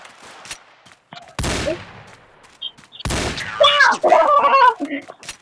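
Gunfire in the shooter game Special Force Group 2, with sharp loud shot bursts and a rapid volley among the game sounds and a voice speaking over it.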